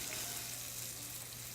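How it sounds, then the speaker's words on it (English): Fish pan frying in oil gives a steady, hissing sizzle with fine crackles, continuous and close throughout, with no talking. "what we're doing here is a technique called pan frying"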